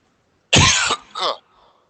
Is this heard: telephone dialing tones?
no